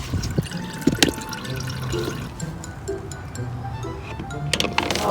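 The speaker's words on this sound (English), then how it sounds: "It's still draining. Do you hear it?" Coolant trickles and drips out of a 2009 Honda Civic Si while it drains on a hot day, a steady low splashing with scattered drips, faint and close, under outdoor background noise.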